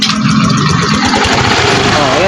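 A Suzuki Samurai 155 motorcycle with a stalling fault and a draining battery starts and settles into a steady close idle, while people talk over it in a repair shop.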